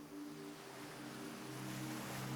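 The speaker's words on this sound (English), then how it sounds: "The ocean makes such calming sounds as it laps against the white, sandy shore." Ocean water lapping against a white sandy beach on a sunny day, a steady soft wash of surf alongside a low continuous hum, with no voices.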